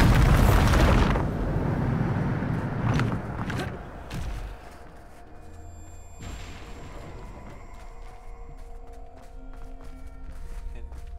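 Bombarda spell exploding in Hogwarts Legacy, a loud, close boom at the start that decays into rumbling debris and low echoes, with lighter impacts and game sounds following.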